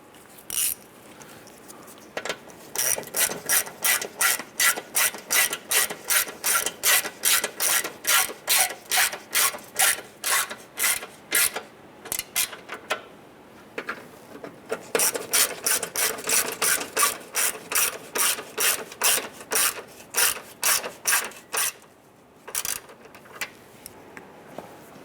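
A ratchet wrench snugs down bolts on the radiator support tie bar of a 2005-2010 Chrysler 300, giving two long bursts of rapid, steady clicking strokes, close and clear, with brief pauses between runs.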